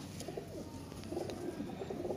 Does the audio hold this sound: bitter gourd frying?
no